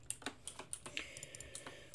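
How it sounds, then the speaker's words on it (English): Typing on a computer keyboard makes a quick, uneven run of sharp clicks and taps, fairly faint and close, with no voices over it. "that typing was in Discord"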